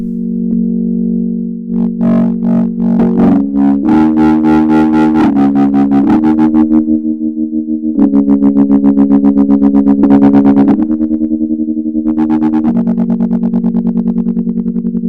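Heavily distorted, effects-laden music made from onion sounds, with a sustained droning tone, shifting chords and a gritty, saturated texture that swells and thickens partway through.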